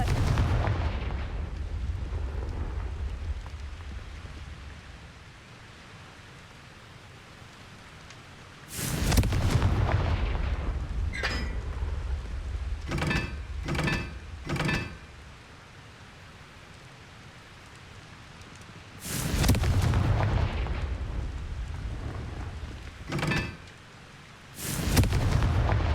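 Repeated Confringo blasting-curse explosions in Hogwarts Legacy: several loud, broad bursts and a quick cluster of sharp blasts between them, over a steady rumbling ambient bed with no talking.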